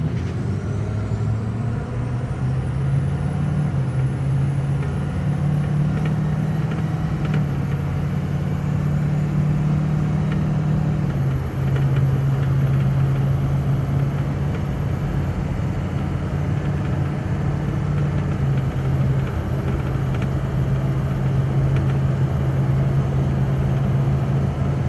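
A Ford 6.0 Powerstroke diesel truck accelerates at quarter throttle from a standstill toward about 55 mph, its engine drone rising and holding steady under continuous road and wind noise, close and loud for the full stretch without speech.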